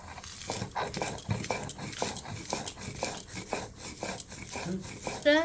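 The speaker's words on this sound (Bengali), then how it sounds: "এই রসুনের ভিতর কিছুটা শুকনো মরিচ আর লবণ এখন আমি বেটে নেব।" Garlic is ground with dried chili and salt on a grinding stone, making close, rhythmic rasping strokes repeated evenly throughout.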